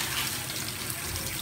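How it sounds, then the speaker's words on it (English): Fresh tap water runs steadily into a sink while a video laryngoscope (C-MAC) is being cleaned, a continuous broadband splashing stream at close range with no speech. "Let's get some fresh water going."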